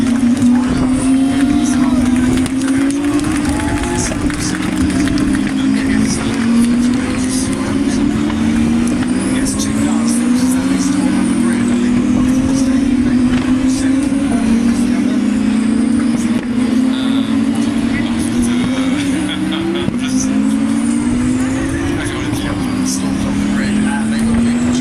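Race cars on the formation lap at Circuit Paul Ricard during the 2022 French Grand Prix weekend, with engines droning loudly and continuously, rising and falling in pitch as cars pass close by one after another.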